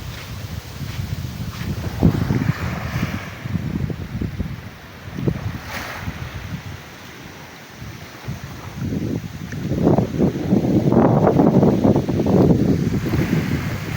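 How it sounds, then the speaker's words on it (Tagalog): Strong southwest monsoon wind, the habagat, stirred by Typhoon Inday, buffets the microphone in heavy low rumbling gusts that ease briefly and then swell louder toward the end. "Malakas ang habagat"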